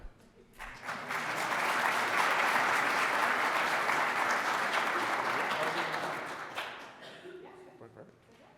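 Audience at a board of education meeting applauds a teacher nomination, clapping swelling up quickly, holding steady for several seconds, then fading out with a few scattered claps and a voice.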